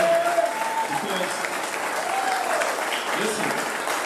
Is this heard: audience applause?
yes